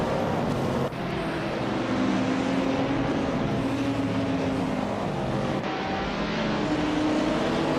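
Several race car engines roar together at the start of a video game race on the Bernese Alps Festival track, led by a classic 1970 Ferrari 712 Can-Am car. A dense, steady engine drone holds loud for the whole stretch.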